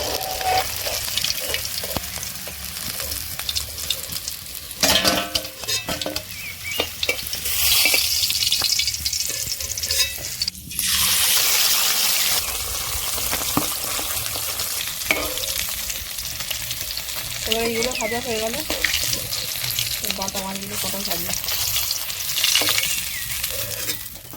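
Freshly caught pond fish fry in hot oil, a loud, continuous crackling sizzle with bursts of spattering and the occasional stir, close up, with no voices.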